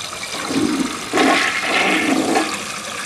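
A 1963 UR Briggs toilet flushes in one short rushing surge of water that swells, holds and then tapers, loud and close with no voices.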